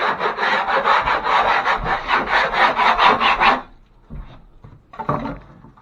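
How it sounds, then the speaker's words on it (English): A hand scraper rasps over rough drywall texture in a bathroom patch repair, giving a quick series of close, rhythmic scraping strokes for several seconds and then a few sparse scratches after a pause. "I'm going to scrape out past the area where there's rough texture"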